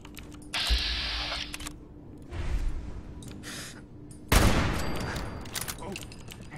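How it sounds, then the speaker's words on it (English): Video game gunfire during a survival raid, bursts of rapid automatic shots in short clusters with clicking mechanisms between, fairly quiet and distant in places. "And gunshots, I guess."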